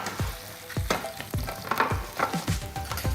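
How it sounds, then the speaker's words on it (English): Roughed-up potatoes sizzle and spit in a baking tray of hot fat, a steady crackling hiss broken by repeated scraping, clattering turns as they are tossed and coated, close and fairly loud with no talking. "add to a baking tray of sizzling hot fat"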